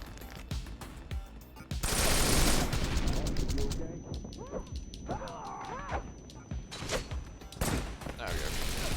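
Gunfire from a pistol and other weapons fills a Wanted: Dead firefight, with loud bursts of rapid shots, a sustained roar of fire and scattered single cracks. Voices and game sounds run underneath.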